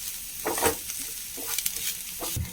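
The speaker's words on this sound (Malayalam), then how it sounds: "കുറച്ച് കറിവേപ്പില ഇട്ട് കൊടുക്കാം വറുത്തിടുക ബ്രൗൺ ആയിട്ട് വരട്ടെ" Curry leaves and grated coconut fry in a pan, a steady close sizzle with several bursts of crackle as the mixture is stirred.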